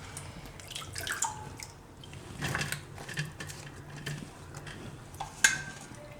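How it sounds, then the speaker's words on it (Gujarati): Water drains from cut potatoes and eggplant in a strainer, a quiet trickle with scattered drips and light clinks that come and go over several seconds. "તો આને આ રીતે આપણે જારીમાં કાઢી લેવું એટલે પાણી બધું નીતરી જાય."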